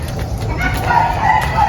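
A rooster crows a short way off, with faint chicken clucking around it against steady outdoor background noise.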